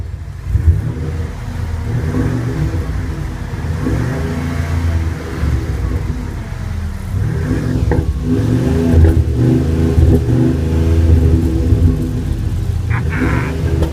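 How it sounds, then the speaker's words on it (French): A Ford F250 Lariat pickup's engine rumbles loudly through a deep Flowmaster exhaust, revving up and down repeatedly close by, with some voices faintly underneath. "on va vous montrer ici le son du Flowmaster"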